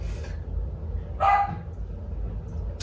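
A single short dog bark rings out over a quiet, low background hum.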